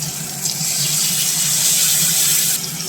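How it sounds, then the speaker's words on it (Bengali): Water used to rinse a mixer jar pours into frying masala for a squash and potato curry. It makes a continuous close gushing splash that holds for about three seconds. "মশলাটা যাতে পুড়ে না যায় তার জন্য একটু জল দিয়ে দিলাম মিক্সির জার ধুয়েই দিয়ে দিচ্ছি"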